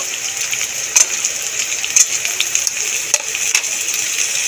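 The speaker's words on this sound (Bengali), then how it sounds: "নেড়ে চেড়ে একটুখানি লাল লাল করে ভেজে নেব।" Chopped sweet potato and pumpkin frying in a pan while being stirred, a continuous bright sizzle with sharp utensil clicks roughly once a second.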